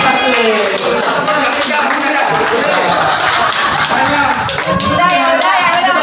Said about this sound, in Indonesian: Tepuk tangan untuk Grup Kasih.